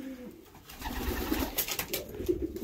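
Racing pigeon cooing softly after returning home to the loft late in the racing season, with low, throaty calls, rustling and other faint bird noises nearby.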